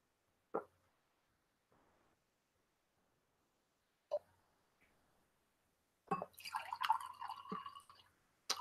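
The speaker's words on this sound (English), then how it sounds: "I'm finishing my water up." Someone drinks water in a quiet room: two short, distinct gulps several seconds apart, each followed by a faint tail, then a longer, busier stretch of handling noise near the end.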